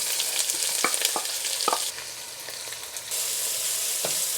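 Whole mustard seeds sputter and crackle in hot oil in a pan, a dense steady sizzle with sharp popping bursts throughout, close and fairly loud.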